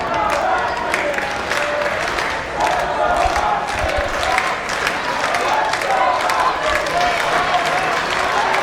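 A crowd at a live wrestling event held at a baseball ballpark cheers and applauds steadily and loudly throughout, with shouts rising over the continuous clapping.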